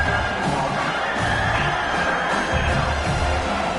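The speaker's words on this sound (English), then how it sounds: "This crowd coming to life here, trying to help the defense get a stop." A football stadium crowd in a college game swells into a loud, sustained roar of cheering and shouting, a dense wall of many voices filling the space without a break.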